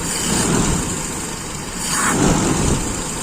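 A standard carburetor engine, freshly tuned, is revved in a throttle test: a steady engine drone rises twice into louder bursts around the middle and near the end, heard close with no talk.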